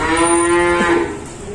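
Cattle at a cattle dealer's farm give one long, loud, close moo that holds steady for about a second before fading into low farmyard background.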